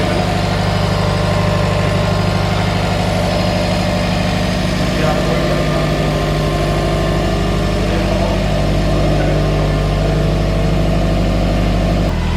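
A Subaru WRX engine idles steadily while warming up after a cooling modification, a loud, continuous low rumble that holds even throughout with no revving.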